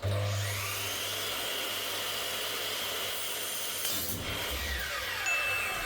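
A drop saw cuts through an aluminum splashback edging strip, giving a loud, continuous high-pitched whine and scream that holds steady for several seconds. It dips briefly near the end before resuming.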